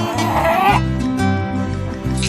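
A large rooster in a hill village calls loudly and close, with harsh, strained crowing over a steady low background.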